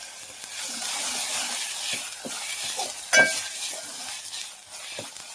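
Masala with turmeric powder roasting in a pan for patwadi, a steady close sizzle and hiss with occasional soft stirring scrapes and one sharper clink against the pan.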